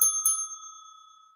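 A bicycle-style desk bell rung by the host on a baseball talk show gives two quick bright dings, close and clear, then rings out and fades alone.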